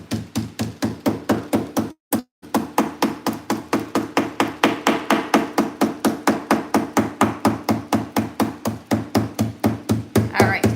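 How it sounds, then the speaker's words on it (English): A hammer strikes furniture to work a stencil, roughly five even blows per second in a close, loud, steady rhythm, broken by one short pause. "so I'm just gonna hammer out the bottom part first."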